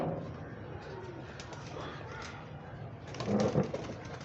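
Pigeons on a rooftop coo at moderate level, a low steady murmur that swells briefly louder near the end.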